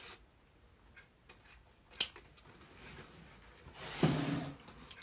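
Scissors snip through a ribbon tail during Christmas bow making, a sharp click followed later by a longer, louder crisp cut in an otherwise quiet room.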